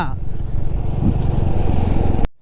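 A motorcycle cruises on a road in a steady, close engine drone with road rumble, holding even for about two seconds before it cuts off abruptly.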